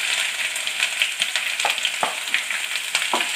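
Green chili and ginger sauté in hot oil for gooseberry pickle, giving a steady close sizzle broken by several sharp spatula scrapes and taps against the pan, with no voices.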